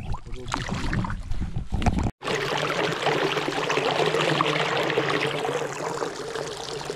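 A farm waterfall in Tarlac gives off a constant rushing wash of water. There is a brief cut partway through, then a steady, fairly loud flow that sits under faint background voices.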